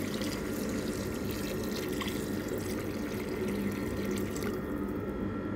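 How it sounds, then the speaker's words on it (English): Water pouring steadily into a pot of beef bourguignon, a continuous close rushing splash that runs unbroken for several seconds with no voices over it. "Now we're going to add our water."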